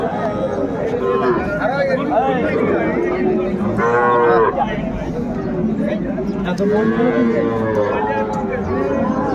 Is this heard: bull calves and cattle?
yes